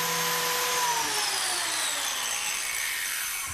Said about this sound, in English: We're using a biscuit joiner to mill some slots into the miters of our frame.